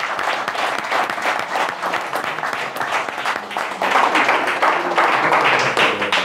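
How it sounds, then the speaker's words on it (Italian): Applause at a town council meeting in Vione: a roomful of people clap steadily and loudly for several seconds, dense overlapping claps swelling slightly toward the end. "Nel ruolo di Vice Sindaco a Sterli Luigi, direi di battere le mani come Vice Sindaco."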